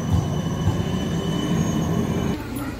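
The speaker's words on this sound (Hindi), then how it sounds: "ट्रैम भी आ गई।" A tram pulling in along a street in Coburg, Melbourne, its low rumble and wheel noise rolling close by before easing off near the end, with street ambience around it.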